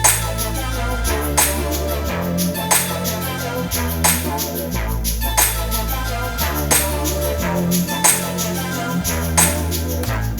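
A hip-hop beat with African instruments plays continuously, its looping percussion hits and rhythmic plucked and tonal parts repeating in a steady groove over a thick low end.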